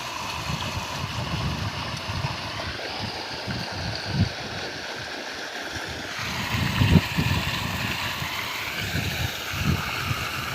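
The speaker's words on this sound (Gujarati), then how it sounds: "આ પાણી આવે છે, આ પાણીનો અવાજ તમે સાંભળતો હશે" Irrigation water runs steadily along a channel beside a ripening millet field, a continuous rushing wash with gentle surges, heard near and alone without voices.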